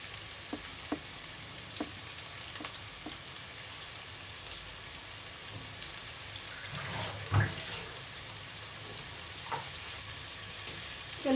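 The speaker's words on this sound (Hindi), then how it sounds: "जब तक मैं प्याज ब्राउन करती हूँ" Onions browning in hot oil in a pan for beef yakhni pulao give a soft, steady sizzle with scattered pops and light clicks of stirring, fairly quiet and close.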